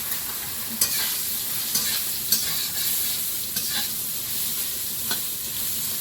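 Soya chunks with a pinch of turmeric sizzle and fry in a pan over a wood and dung-cake fire, with a steady hiss broken by sharp scraping stirs every second or so; no one talks.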